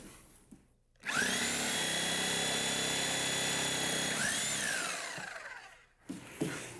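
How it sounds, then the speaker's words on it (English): A reciprocating saw, its blade driven back and forth through a slot, cuts off the bottom of a wooden wall stud, a loud steady buzzing motor roar that starts abruptly, holds for about four seconds, then winds down, with brief knocks afterward. "This is called a reciprocating saw because the blade reciprocates back and forth."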